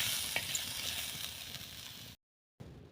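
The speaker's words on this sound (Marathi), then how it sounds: "तुरी छानपैकी परतले गेले आहेत तर अशा पद्धतीमध्ये परतून घ्यायच्या" Fresh pigeon peas (tur) sauté in a pan with a soft, steady sizzle and faint stirring, quiet and close, cutting to a brief silence near the end.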